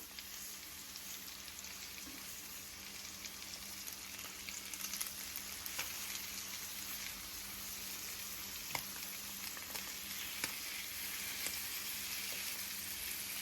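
Honey lemon pepper salmon fillets frying in a pan, a steady, fairly quiet sizzle with occasional small pops and crackles throughout, no voices.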